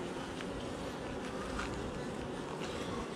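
A swarm of honey bees buzzes around a hive in a continuous low, dense drone, fairly faint and steady, with no voices.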